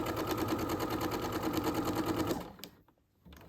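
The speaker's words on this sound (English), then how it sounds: "this is your brother's sewing machine, which you're happier with now than you were before" A home sewing machine stitches pieces of a log cabin quilt with a fast, steady rhythmic whir close by for over two seconds, then stops, leaving quiet handling sounds.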